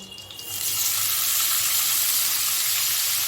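Chopped onions dropped into hot oil for a duck egg korma burst into a loud, steady, hissing sizzle that fills the whole space after a brief quieter moment.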